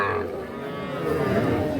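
Cattle, including a young bull calf, call out at a busy cattle market in a brief, close, fairly loud low bellow over a continuous background of market noise.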